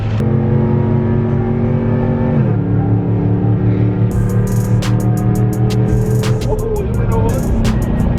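A leveled Chevrolet Silverado fitted with American Racing headers revs hard in a tunnel under a bridge in downtown Atlanta, a loud sustained engine drone that shifts pitch midway, with sharp crackles toward the end.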